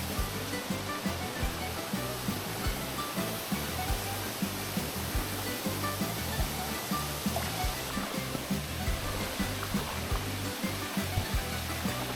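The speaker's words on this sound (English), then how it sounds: "this is the third waterfall we came to, and the water is so clean here" A waterfall in the Peloponnese pours steadily with a dense, even roar, heard close and constant, with no voices over it.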